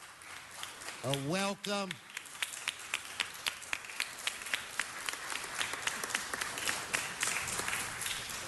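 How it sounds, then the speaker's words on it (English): An audience at a city council meeting applauds steadily with sharp, even claps that continue throughout, and a voice speaks briefly near the start. "Let's give them a round of applause."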